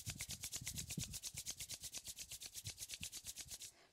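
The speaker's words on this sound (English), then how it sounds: "And rub your palms." Palms rubbed briskly together during a seated yoga practice, a soft, evenly paced swishing with about thirty quick back-and-forth strokes, close and quiet with no talking.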